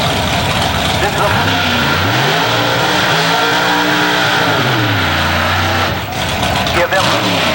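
Drag race cars accelerating at an IHRA event, a loud roaring engine sweep rising and falling steadily throughout, with a commentator talking over it.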